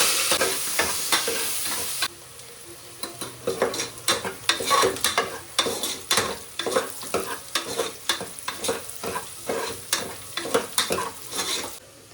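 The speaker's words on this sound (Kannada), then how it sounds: "ಈಗ ಉದ್ದುದ್ದಕ್ಕೆ ಹೆಚ್ಕೊಂಡಿರೋ ಆನಿಯನ್ಗಳನ್ನ ಹಾಕೊಳ್ತಾ ಇದ್ದೀವಿ" Long-sliced onions and cashews fry in a pan with cardamom for biryani, a steady close sizzle broken by repeated scraping stirs of a spatula, with no voices.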